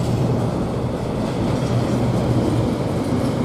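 A freight train hauling container wagons rumbles past a station at Ely, a loud, dense, continuous low roar of wheels and wagons close by, with no voices.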